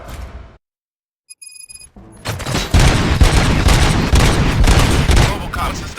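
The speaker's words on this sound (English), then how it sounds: "Gunshots? What's going on?" Video game gunfire in a RoboCop-style action scene: after a brief quiet gap and a faint electronic tone, a loud, rapid burst of automatic shots and booms erupts and keeps going at close range.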